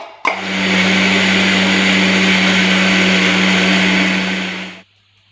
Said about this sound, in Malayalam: അപ്പോൾ നമുക്ക് അടുത്ത സെറ്റും കൂടി ഒന്ന് അരച്ചെടുക്കാം കേട്ടാ